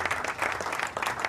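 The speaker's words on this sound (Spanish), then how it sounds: "otro gran aplauso para nuestra licenciada" Sustained audience applause for a guest licenciada after an environment segment, dense rapid clapping at an even, moderate level throughout.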